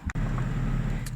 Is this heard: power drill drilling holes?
no